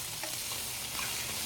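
Shrimp sizzle and hiss in a hot pan as they are stirred and turned, a faint steady frying crackle with no talking.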